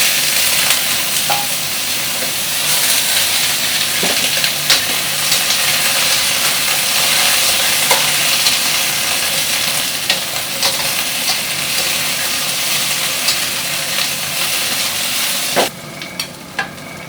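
Steady, loud sizzling of chicken frying in a hot pan, a dense continuous hiss with occasional pops and clinks, close by.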